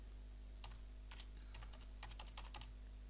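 Typing a comment on a computer keyboard in Word: a few quiet, scattered key taps in short bursts over a low steady hum.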